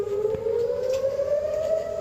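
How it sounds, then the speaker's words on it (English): Outdoor civil defense sirens wail across Plano, Texas, on a stormy night, a sustained rising tone that is steady and moderately loud, heard from a distance with no voices. "sirens went off as storms rolled through North Texas"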